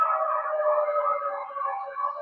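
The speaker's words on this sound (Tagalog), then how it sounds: "Halos oras-oras may dumadaang fire truck." A fire truck siren passes near Intramuros beside the Pasig River in Manila, sounding a loud, steady wail for the whole stretch with no pauses.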